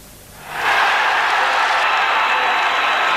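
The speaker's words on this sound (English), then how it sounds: "Just listen to the buzz of the fans" Hurling fans at a 1987 Munster senior hurling championship semi-final between Limerick and Cork roar as Leonard Enright comes on as a Limerick substitute, a dense crowd cheer swelling up sharply after a quiet start and holding loud and steady.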